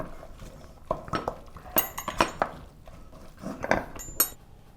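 Stuffed-onion filling being mixed in a bowl with utensils, with close, rhythmic metallic clinks and scrapes against the bowl in quick bursts.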